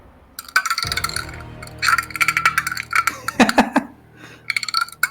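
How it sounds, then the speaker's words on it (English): Frog drum sound effect from a video game, a series of short hollow knocking, clinking clicks in irregular bursts, close and fairly loud, with brief pauses between clusters. "It's actually called frog drum."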